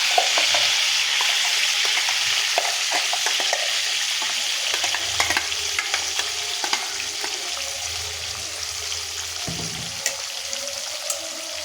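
Masala sautés in a pan of oil and butter, a steady bright sizzle with frequent scraping stirs and small clinks, continuous and close throughout with no voices.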